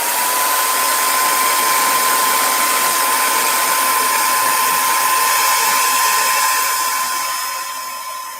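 A hair dryer blows steadily to speed up drying, a loud, close, continuous whirring hiss with a thin high whine that holds for several seconds before tapering off near the end.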